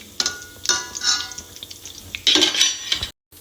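A metal pan is set down and handled on a kitchen stove to make a tempering with desi ghee, producing several close metallic clanks, scrapes and clatters at uneven intervals, with no speech.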